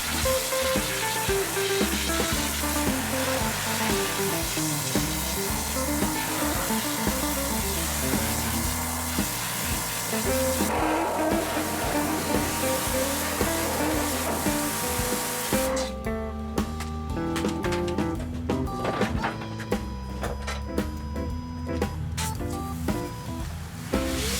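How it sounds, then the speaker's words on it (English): A pressure washer blasting built-up grass and grime off the underside of a mower, a loud continuous hissing spray that runs unbroken and shifts in tone partway through. "Power wash to get rid of even more buildup"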